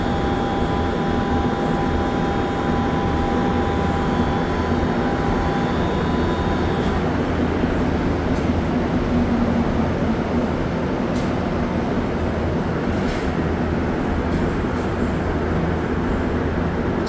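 A Montreal metro train on the Green Line pulls into a station down below, a sustained rolling rumble with faint tonal whines early on, heard from a distance across a steady platform ambience.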